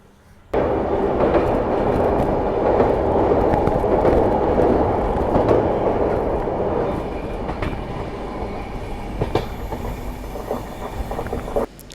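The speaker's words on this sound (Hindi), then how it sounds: "और हमारी ट्रेन साबरमती में काफ़ी देर तक रुकी थी, और अभी इसका डिपार्चर हो रहा है।" Ajmer Mysuru Express pulling out of Sabarmati station, a steady loud rumble of rolling wheels and carriage noise heard from on board, continuous and unbroken for the whole stretch.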